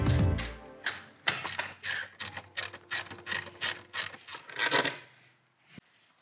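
Stainless bolts are tightened with a 3/16 Allen wrench while mounting a Minn Kota Instinct QUEST trolling motor, giving a series of close, quick metallic ratcheting clicks in short bursts before a final clink.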